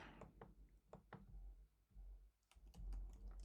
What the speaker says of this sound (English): So let's type some code in here.